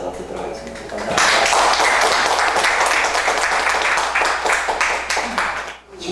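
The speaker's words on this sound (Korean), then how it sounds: "강의를 먼저 큰 박수로 모셔서 듣도록 하겠습니다" A lecture audience bursts into loud, sustained applause welcoming a speaker, many hands clapping together for several seconds before it fades out.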